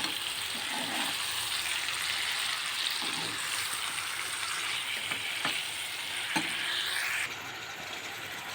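Marinated chicken shallow-fries in oil, a loud, steady sizzle with bright hissing and occasional soft stirring clatters, close up and without any speech.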